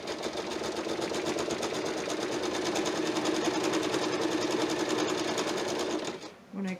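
Sewing machine running steadily for about six seconds, stitching a quilt binding seam, a fast even mechanical whir with a rapid needle rhythm, close and continuous before stopping near the end.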